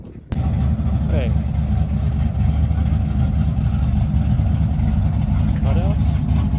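A car engine with exhaust cutouts idles loudly and close with a deep, rough rumble and a steady throb, while people talk briefly over it at a car meet.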